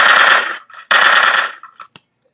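Gunshot sound effect added in iMovie: two loud, close sustained bursts of rapid automatic fire, each about half a second long, followed by a few scattered shots and clicks trailing into silence.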